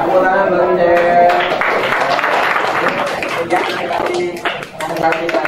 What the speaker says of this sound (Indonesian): Ya, tepuk tangan Bang Jen.